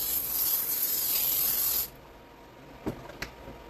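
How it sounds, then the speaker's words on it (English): Cooking spray hisses onto a casserole dish in a steady, close burst for about two seconds, then stops, followed by a couple of soft taps. "I'm gonna spray a little bit of this cooking spray onto my casserole."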